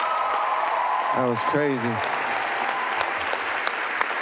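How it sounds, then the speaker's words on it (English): An audience applauds a performer with steady, dense clapping that runs for the whole stretch, while someone speaks briefly over it partway through. "we got to give her a round of applause"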